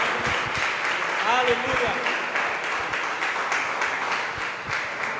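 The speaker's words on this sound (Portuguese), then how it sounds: "Vamos dar um aplauso poderoso a Jesus" Congregation applause at a Portuguese-language church service fills the space with steady, dense clapping, while voices call out over it.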